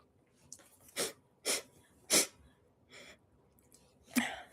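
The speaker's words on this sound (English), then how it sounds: "I'm just sneezing up stuff" A series of sharp, breathy sneezes and sniffs bursts out one after another, close by, with short quiet gaps between.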